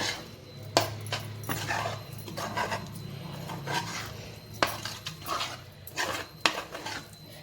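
A spoon stirs fresh tomato chutney with chili powder in a bowl, giving quiet, uneven scrapes and sharp clinks against the sides in a loose rhythm.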